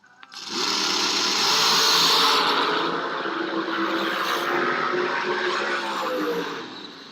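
A dragster's engine roars through a time run at a Cajun King shootout drag race, starting abruptly and holding a loud, sustained high-revving blare for several seconds before easing off.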